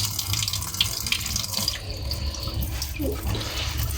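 Hot water pours steadily from a tap into a sink, a continuous close rushing splash that holds an even level throughout, with no voices.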